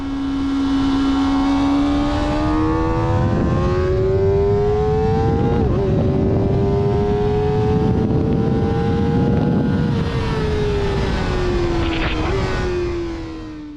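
A 2023 Kawasaki ZX-4RR racing around a track, its inline-four engine screaming loud and close at high revs, pitch climbing steadily through the gears with brief dips at each shift, then easing off near the end.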